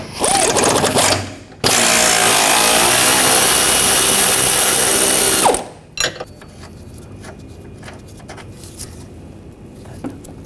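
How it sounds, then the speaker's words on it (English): Power tool or ratchet working a 21mm control arm bolt on a 2014-2020 Nissan Rogue rear suspension, a loud steady whirring burst of about four seconds followed by scattered clicks and clanks of metal on metal nearby. "Now take this bolt out. Use the 21mm wrench and 21mm socket."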